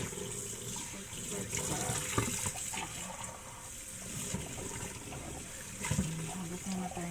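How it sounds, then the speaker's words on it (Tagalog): Tap water runs steadily into a kitchen sink while dinner plates are washed, a continuous close hiss and splash with occasional clinks of dishes. "Hugas muna tayo ng plato."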